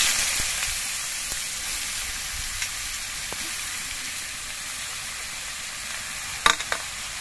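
Bottle gourd frying with spices in hot oil, a steady close sizzle and hiss with occasional stirring knocks and a brief clatter near the end.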